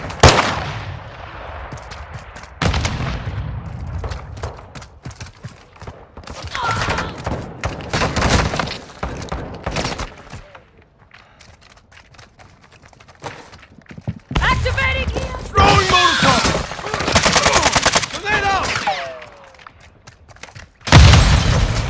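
Gunfire in Call of Duty: Modern Warfare II: sharp shots and short bursts mixed with heavy booms and thuds, with quieter stretches of footsteps between them, while voices come through intermittently.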